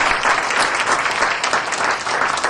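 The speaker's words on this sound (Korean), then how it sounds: "한 번 더 큰 박수" Audience applause at a Saturday special lecture, a dense, loud burst of clapping from a full hall, steady and unbroken for a couple of seconds.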